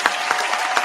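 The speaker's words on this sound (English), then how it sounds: "I think she deserves a round of applause for that" A short burst of applause from a small group, several sharp claps spread across under a second, close and fairly loud.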